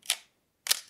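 A Nikon F2 film camera fires its shutter twice, two crisp, close mechanical clacks about half a second apart in an otherwise quiet room.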